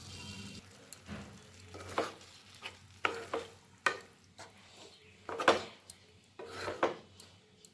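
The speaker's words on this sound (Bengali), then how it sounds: "এখন আমি এর মধ্যে দিয়ে দিচ্ছি সামান্য জল" Vegetables and spices in a pan for a restaurant-style mixed veg dish, with a little water poured in, giving soft sizzling and repeated scraping stirs at a steady rhythm, close and moderately quiet, with no talking.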